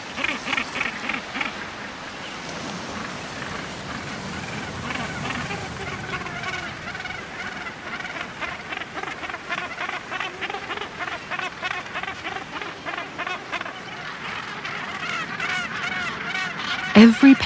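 A dense gannet colony on Bird Island calls continuously, a rough chorus of harsh, overlapping cackles and honks rising and falling in rapid bursts, fairly close and loud throughout.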